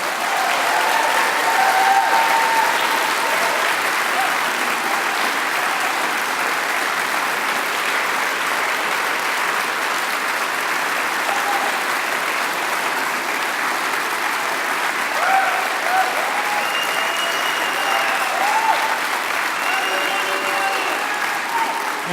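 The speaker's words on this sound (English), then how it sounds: "It's an exuberant crowd we have here today" A large crowd at a Bernie Sanders political rally in Manchester, New Hampshire, applauds loudly and steadily, a dense sustained wash of clapping that fills the space.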